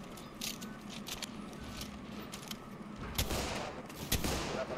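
Scattered gunfire in a multiplayer PC shooter, faint and somewhat distant, with sporadic sharp shot bursts and a heavier cluster of reports toward the end over a steady background rumble.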